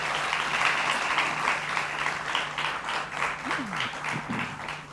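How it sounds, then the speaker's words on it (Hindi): A studio audience gives a hearty round of applause to welcome Swami Shailendra Saraswati, brother of Osho, as an interview guest; the clapping is steady and moderately loud, with a few faint voices heard beneath it. "जोरदार तालियों से इनका स्वागत कीजिए।"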